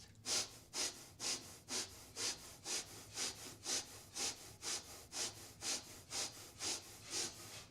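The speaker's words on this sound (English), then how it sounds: "we have quick breathing" Quick, rhythmic breathing during a yoga exercise, about sixteen sharp breathy puffs in a steady even rhythm, close and moderately soft, with no talking.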